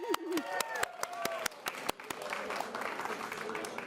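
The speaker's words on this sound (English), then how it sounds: "Another big round of applause." An audience at a live salsa event claps and cheers in a dense round of applause, sharp hand claps over crowd noise, loud and close, with a voice briefly speaking over it.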